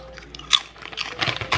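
Puffy corn snacks shaped like Doritos are bitten and crunched close to the mouth, a few sharp crisp crunches followed by quieter chewing, with no talking.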